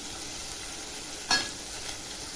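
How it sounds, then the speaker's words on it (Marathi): Onion fries in a pan for moong dal khichdi, a soft, even sizzle close by with one brief stirring scrape near the middle. "कांदा टाकते कांदा बघा छान असा गुलाबी कलरवर फ्राय करून घ्यायचा"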